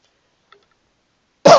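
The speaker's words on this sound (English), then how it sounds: "I probably coughed right into the microphone" A single sharp cough right into a microphone, loud and abrupt after near silence, preceded by one tiny click.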